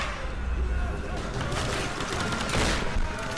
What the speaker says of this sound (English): Die from these shotgun blasts